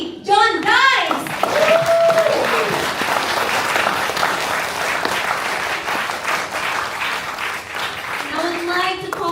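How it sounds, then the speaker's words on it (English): Audience applause welcoming guest speaker John Dykes at a club workshop evening, a sustained crowd clapping that swells and holds steady, with a few voices and brief cheers audible at the start and end. "let's on the moment to give a big round of applause to the one and only John Dykes"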